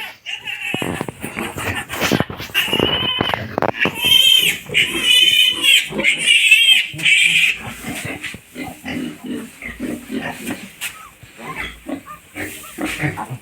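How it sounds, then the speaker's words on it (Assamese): A large sow grunting in her pen after giving birth to four piglets, repeated close grunts and squeals for several seconds, with occasional voices nearby. "ইমান ডাঙৰ গাহৰিজনী 4টা পোৱালি দিছে"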